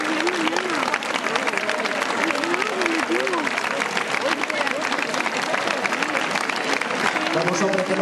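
An audience at a San Juan festival gathering in Rabanera del Pinar applauds, a dense continuous clapping that fills the space evenly from start to finish, with faint crowd voices mixed underneath.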